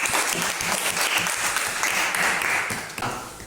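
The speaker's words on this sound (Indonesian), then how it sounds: "Bagus sekali, tepuk tangan." Applause from a classroom of students, steady dense clapping that fills the whole stretch without a break and fades slightly at the end.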